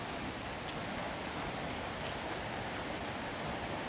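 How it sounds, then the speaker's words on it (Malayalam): River water flowing downstream near the Urukunnu waterfall in a forest at Thenmala, a dense steady rushing roar with no breaks, fairly close and constant throughout. "ആറിങ്ങനെ ഒഴുകുന്ന താഴോട്ട്."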